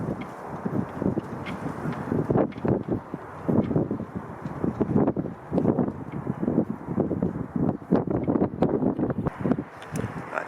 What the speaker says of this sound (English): I'm getting out of this wind